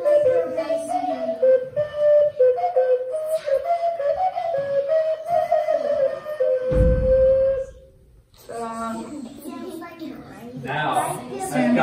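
A small four-holed whistle plays a lively, wavering melody of bright tones, close and fairly loud, broken by a short breathy burst before a busier run of notes near the end.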